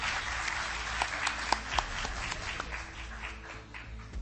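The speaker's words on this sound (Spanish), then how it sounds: "Un aplauso para él que está con nosotros también esta tarde." An audience at a UFO conference in Maipú claps steadily, a moderately distant wash of many hands with a few sharper individual claps standing out, without speech over it.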